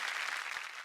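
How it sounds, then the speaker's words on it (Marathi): Studio audience applause on a Marathi TV game show, a brief burst of dense clapping at moderate level, cut short after under a second. "टाळ्या."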